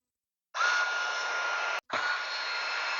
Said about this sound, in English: So I'm just going to drill these guys in.